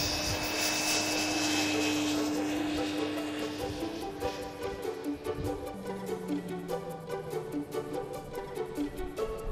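A loud jet aircraft engine drones steadily at close range, its pitch shifting as it passes, with a whining tone over the roar.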